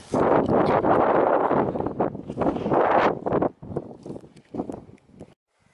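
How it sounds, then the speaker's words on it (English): Strong wind gusting across an exposed spot by a mountain lake, loud buffeting roars battering the microphone in bursts that break off and fade toward the end. "It's blowing quite a strong wind today."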